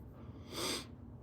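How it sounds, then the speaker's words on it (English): A single nasal sniffle from someone with a slight cold, a short breathy burst of about a quarter second, close and fairly quiet, over a low background hum with no talk. "Sorry for the sniffling."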